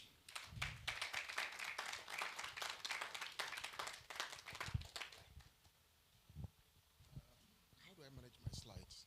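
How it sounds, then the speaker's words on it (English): Conference audience applauding an energy speaker, sharp close claps thinning out to scattered taps, then a few quiet voices talking nearby. "give a resounding round of applause for Rumundaka Wanodi"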